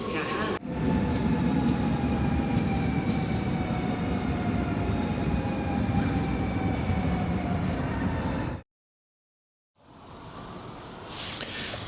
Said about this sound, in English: waiting a couple of minutes for the train to pull up